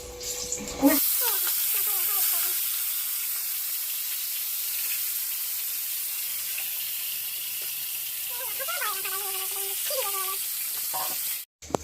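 Hot cooking oil sizzles steadily in a pan with a broad hiss, close and continuous, while a voice talks over it in places.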